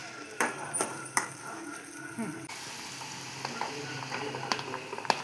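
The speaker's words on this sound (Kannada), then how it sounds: "ಇವಾಗ ಎಲ್ಲವನ್ನು ಹಾಕಿ" Onions, tomato and coriander sizzle steadily in hot oil for egg bhurji, with a spatula scraping and clinking against the pan now and then, close and continuous.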